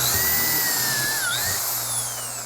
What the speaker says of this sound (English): clamp it, and just simply drill the 2 holes